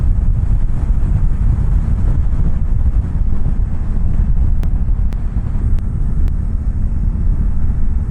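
A 2024 Suzuki V-Strom 800 motorcycle ridden at speed, heavy steady wind roar buffeting the microphone over a low engine drone, loud and continuous throughout with no speech.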